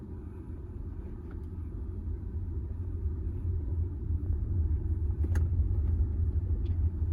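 A Tata Nexon EV electric car pulls away and builds to a slow cruising pace, producing a steady low road rumble and tyre noise that gradually grows louder, with a brief faint click partway through.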